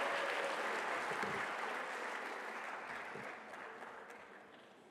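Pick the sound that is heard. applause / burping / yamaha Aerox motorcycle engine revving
applause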